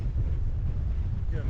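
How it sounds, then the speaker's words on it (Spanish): Strong wind buffets the microphone while cycling beside a river, a loud, continuous low rumble with gusty swells throughout. "Está soplando el viento."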